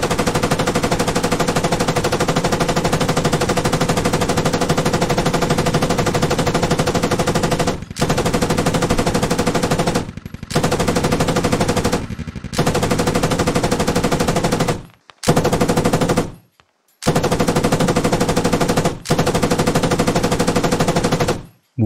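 Automatic gunfire from the Squad military shooter game, with long sustained bursts of rapid, loud shots and a few brief breaks between them; no talking.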